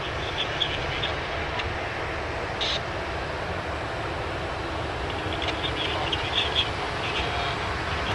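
Asiana and United airliners taxi at Sydney Airport, heard as a steady, distant jet rumble and whine that holds evenly throughout with no voices.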